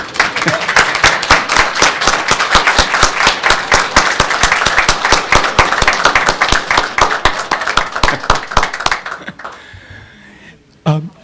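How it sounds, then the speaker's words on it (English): Graduates at a social work pinning ceremony clap for their supporters, a fast, sharply rhythmic volley of close, loud handclaps that thins out near the end, followed by a brief quiet stretch with a faint voice. "give applause to those that supported you during this journey"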